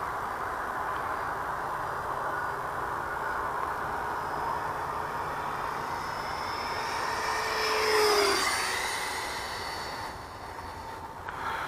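An FMS F-18 RC electric ducted fan jet at about 60% throttle drones steadily overhead with a jet-like whine, then swells and sweeps down in pitch as it passes close around the eighth second before fading.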